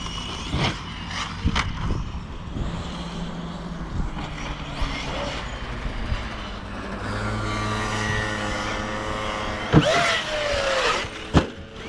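A Traxxas Sledge RC truck runs at full throttle, its electric motor whining and rising in pitch as it accelerates, with clattering mechanical knocks and a couple of sharp impacts near the end.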